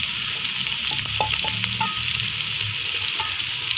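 Garlic and ginger fry in a pan for a fresh curry of potatoes and fenugreek, a steady close sizzle with faint crackles and a stir or two, no voices.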